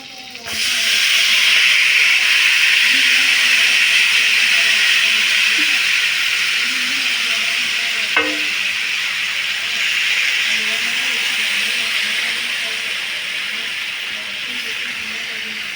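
Paneer cubes fry in melted butter in a pan, giving a loud, steady sizzling hiss that carries on throughout with a single brief clink partway through.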